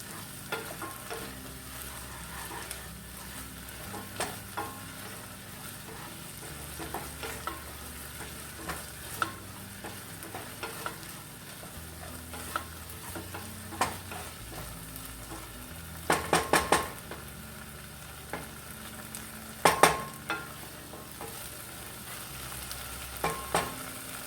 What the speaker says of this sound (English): about 3 to 4 cloves of garlic. And cook that for another minute.